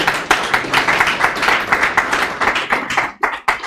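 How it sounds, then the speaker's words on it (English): Audience at a medical school white coat ceremony clapping for Dr. Janai as he comes to the podium, loud rhythmic group clapping with clear individual beats, close and continuous, briefly dropping near the end. "Kindly let's give him a round of applause as he comes."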